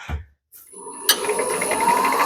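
A small spindle gouge cutting wood on a spinning lathe, starting after a brief pause as a continuous, rough scraping hiss with a faint rhythmic chatter, close and fairly loud.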